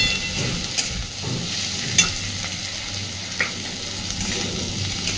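Prawns fry lightly in a pan with a steady hiss and frequent stirring scrapes, a few sharper knocks of the utensil standing out, close and clear with no one speaking.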